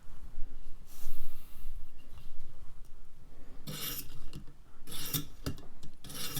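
A serrated knife blade being lightly honed to remove the burr gives several short rasping file strokes in quick bursts, close and fairly loud, with quiet gaps between them.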